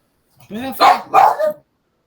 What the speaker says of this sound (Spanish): Bueno, ¿el perro qué dice? Es insoportable el perro.